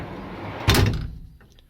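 A sliding drawer unit in a Toyota HiAce van closes with a single loud thud and rattle, followed by a short fading tail and faint small clicks.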